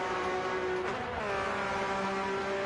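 Race cars sweeping through the Parabolica curve at Monza, a loud sustained engine whine that shifts pitch partway through as a car accelerates past, with no voices heard.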